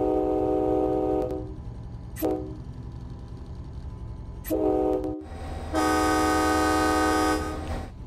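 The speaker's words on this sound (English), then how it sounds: "if it changes the way the horn sounds based on its environment" Horn of an MBTA F40PH-3C locomotive inside a tunnel in the Train Sim World 2 game: several loud blasts, short then longer, with echoing decay, over a steady low rumble of the running train.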